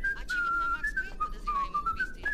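A person whistles a wavering, tuneful line in the video game Max Payne, clear and steady over a low background rumble, with no talking.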